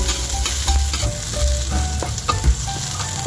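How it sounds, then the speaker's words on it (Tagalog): Garlic sizzles loudly in hot oil in a pan for pork sinigang, a dense crackling fry with repeated scrapes and knocks of stirring, close and continuous, with no speech. "Ayan na guys, mainit na yung ating mantika. Kaya lagyan na natin yung bawang."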